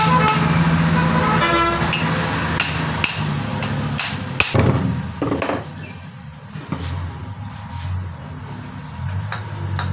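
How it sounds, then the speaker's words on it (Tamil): A hammer knocks on the shaft of a mono block pump motor to free it. The blows are sharp, metallic and irregular, struck close up, with road traffic and a car horn in the background. "தட்டி கழட்டிடுவோம்."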